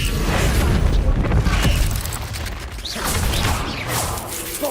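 A Bombarda explosion spell in Hogwarts Legacy erupts as a deep, rumbling boom, with heavy blasts rolling continuously and swelling again near the end.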